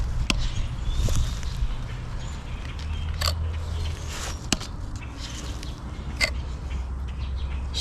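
Tip test on an Oerla OLF-0027 pocket knife, several sharp separate stabbing thuds at irregular intervals over a low background rumble, close.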